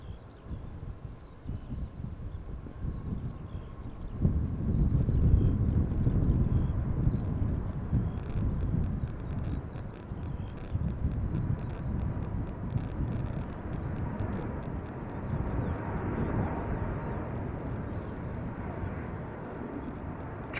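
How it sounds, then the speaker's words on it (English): A China Airlines Airbus A350-900 airliner takes off from the Polderbaan runway at Schiphol, with a steady, broad engine roar that swells after a few seconds and holds throughout, carrying wind noise and a distant rumble. "Now, also just in time for the A350, Choina Airlines to Taipei."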